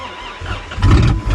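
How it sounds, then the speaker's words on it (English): A car engine cold-starting in snowy December weather, a vehicle that previously had a seized motor on the crankshaft; a low cranking rumble swells into a loud catching roar in the final half second, close by. "this was the vehicle that had the seize motor on the crankshaft"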